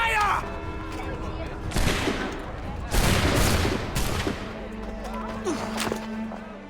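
A volley of musket fire in Assassin's Creed III, several loud cracking bursts in quick succession echoing over battle ambience, with a voice shouting over the scene.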